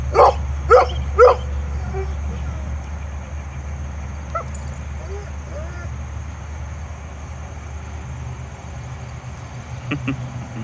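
Three quick dog barks ring out at the start, then a low steady hum of background noise continues with only faint scattered sounds.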